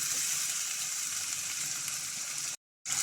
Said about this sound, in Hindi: अब हम टमाटर को प्याज के साथ अच्छी तरह से 1 से 2 मिनट टमाटर का कलर चेंज होने तक भूनेंगे